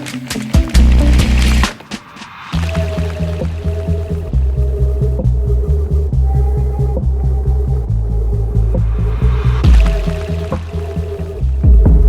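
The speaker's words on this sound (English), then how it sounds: "I was filling up my bike, and then all of a sudden the pump stopped going." Fuel pumping into a Yamaha XJ 600 motorcycle tank at a filling station, a steady close liquid gurgle and rushing flow with small clicks, broken by a short pause near the start.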